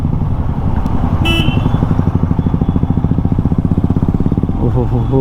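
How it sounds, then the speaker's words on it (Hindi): A Royal Enfield Bullet motorcycle thumps along a highway in Bihar with a loud, rapid, even beat close to the rider, and road noise underneath; a voice briefly comes in near the end. "ओहो क्या बुलेट की साउंड है, टुक टुक टुक टुक टुक"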